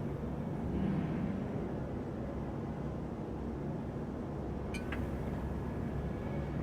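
A spaceship engine in the video game Star Citizen hums as a steady, broad low rumble, with a brief electronic tone entering near the end.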